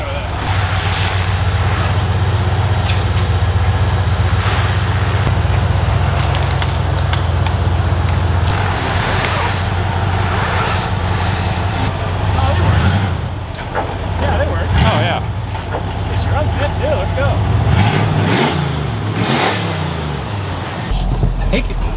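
A 1986 Ford F250 truck runs and drives with a steady engine rumble and road noise, rising and falling a few times while people talk over it.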